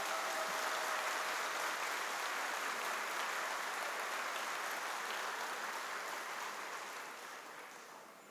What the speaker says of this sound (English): I request all the parents to get up and give a big applause to these young minds.